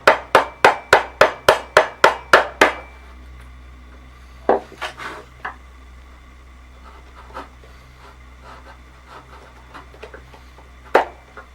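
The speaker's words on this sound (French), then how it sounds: "Maintenant, c'est nettoyer au ciseau à bois et ce sera parfait." Wood chisel cleaning out a cut in wood, a quick run of about ten sharp evenly spaced taps at the start, then scattered quieter scrapes and knocks with a final louder tap.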